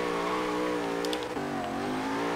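Porsche 928 drift build in Forza Horizon 3 revs hard while sliding, a steady loud engine howl that dips briefly in pitch midway and climbs again.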